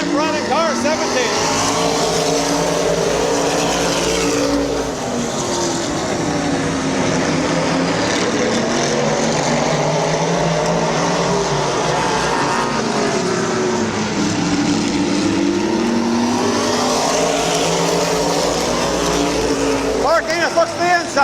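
Race cars roar around the oval at Midvale Speedway in 2004, a continuous loud engine drone with rising and falling pitch as cars pass, under steady track announcer commentary.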